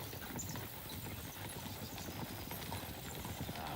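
Steady hoof clip-clop of a horse moving at a walk in the video game Kingdom Come Deliverance II, continuous and fairly even, set against a busy background of ambient noise.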